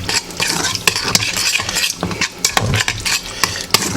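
Chili mac with canned RoTel tomatoes being stirred in a pan, a spoon scraping and clanking against the metal in steady, busy strokes, loud and close with no talking.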